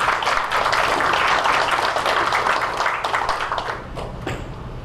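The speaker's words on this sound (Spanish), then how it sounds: "recibamos con un fuerte aplauso al señor Sergio Rodríguez Soria." A conference audience gives a speaker a warm welcome with steady, dense applause. The applause holds strong for several seconds, then thins and fades toward the end.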